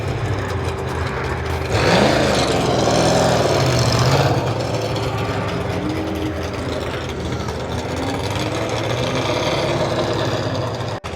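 A Nissan Skyline engine at a charity drift event at Apple Valley Speedway idles and revs, a steady mechanical hum with a short louder surge early on before settling back to a rough idle.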